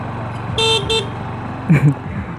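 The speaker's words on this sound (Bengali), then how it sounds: "হর্নটা দিলে কিন্তু খুব আহামরি যে আকর্ষণ গ্যাদার করতে পারবো আমি এরকম না।" A Honda Livo 110 motorcycle horn gives two short, close beeps in quick succession, moderately loud and not piercing, followed by a brief low voice-like sound over a faint background rumble.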